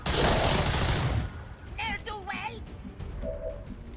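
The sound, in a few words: gunfire in the video game XCOM 2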